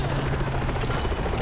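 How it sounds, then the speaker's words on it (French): Helicopter in the video game Far Cry 3 hovers close by, a loud continuous rotor thrum and engine roar that fills the moment without pause. "Il est où cet hélico?"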